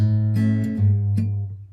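Acoustic guitar letting a low open fifth string ring out steadily as the final note of a song. A few light pick or string noises cross the sustained tone as it decays.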